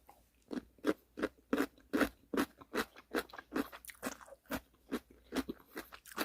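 Crisp, juicy crunching of canned cubed radish kimchi (kkakdugi) as it is bitten and chewed, with a steady rhythm of about a dozen loud, close bites and no talking.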